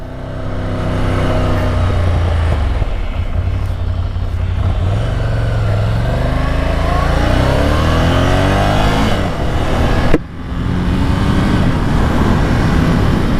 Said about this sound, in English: this 803cc L twin, as they call it, pushes out 75 horsepower, around 60 newton meters of torque.